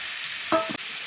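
Two boneless ribeye steaks sizzle on a compact Char-Broil infrared camping grill outdoors, a steady broadband hiss with a brief louder flare of spitting near the middle.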